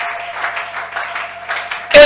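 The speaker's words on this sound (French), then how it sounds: "Doublez les acclamations pour la gloire de Dieu" Worshippers applaud and cheer at a combat worship service in a church, a steady mid-level wash of clapping running throughout, with a louder burst right at the end.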